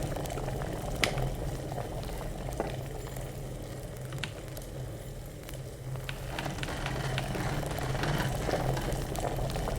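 Two thistles boil in a pot of water over a fire in Kingdom Come: Deliverance, a continuous bubbling and faint crackle that stays steady and close throughout with no talking.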